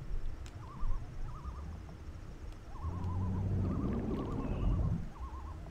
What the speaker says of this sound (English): tweeting, hooting sounds. Is it supposed to be a bird?